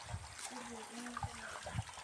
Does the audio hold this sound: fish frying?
no